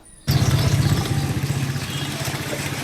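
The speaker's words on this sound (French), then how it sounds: "En route pour Johannesburg, nous prenons place à bord d'une moto." A motorcycle carrying passengers on the road toward Johannesburg starts up suddenly and runs with a loud, pulsing mid-pitched engine drone that holds steady throughout, close by and without talk.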